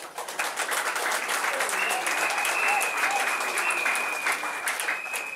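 Crowd at a UDPS party gathering in Makala applauds the cell presidents, a dense, steady wash of clapping sustained throughout with a faint high tone running through the middle.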